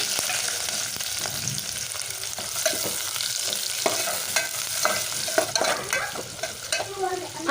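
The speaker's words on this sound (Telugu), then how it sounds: "ఇప్పుడు ఇందులోకి పొడుగ్గా కట్ చేసుకున్న రెండు ఆనియన్స్ వేసుకోవాలి" Two long-sliced onions fry in oil with whole spices and bay leaf in a pan for chicken fry piece biryani, a loud continuous sizzle broken by frequent scraping spatula strokes, with no voices.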